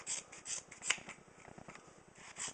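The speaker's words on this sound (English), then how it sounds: "But scissors zip right through it." EMT shears snip through tough seatbelt material in a quick series of crisp cuts, close up and fairly quiet.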